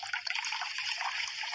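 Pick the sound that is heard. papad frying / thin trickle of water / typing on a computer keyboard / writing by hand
thin trickle of water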